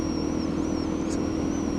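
A Suzuki DRZ 400 motorcycle with a loud aftermarket-style Suzuki exhaust idles steadily nearby, a constant low throb with a faint high whine above it and no talking.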